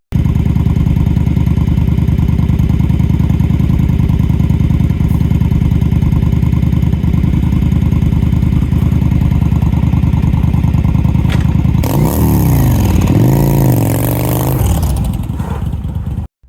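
A Yamaha V Star motorcycle engine idles loud and close with a steady, even rumble, then is revved several times near the end, pitch rising and falling with each blip.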